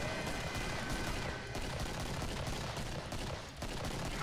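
Continuous gunfire from the video game Killing Floor, dense overlapping shots and bursts rattling throughout at steady loudness, with no talk over it.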